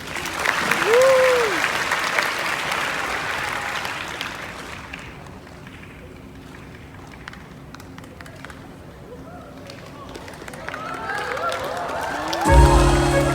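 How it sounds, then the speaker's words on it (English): An audience claps and cheers at a student academic competition event, dense applause that eases off in the middle and swells again near the end, with a few voices calling out through it. "You know how to clap, so clap anyway."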